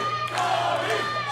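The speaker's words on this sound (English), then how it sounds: "the frustration with these fans cheering on Tony Gunn" Wrestling crowd cheering for Tony Gunn at an OVW television event, a sustained roar of many voices heard steadily throughout the short stretch with no one speaking over it.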